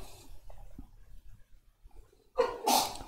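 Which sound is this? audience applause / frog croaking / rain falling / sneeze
sneeze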